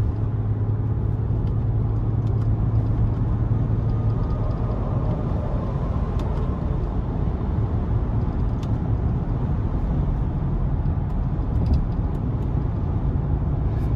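A 2019 Mercedes-AMG GLS 63 SUV with a 5.5-liter twin-turbo V8 cruises along, heard from inside as a constant low engine and road rumble with no breaks.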